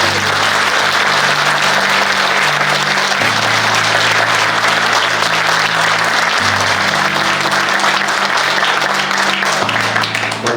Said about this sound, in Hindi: ये तालियों की गड़गड़ाहट आपको बता रही होगी